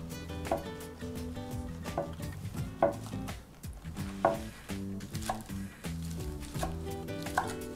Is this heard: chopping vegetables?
yes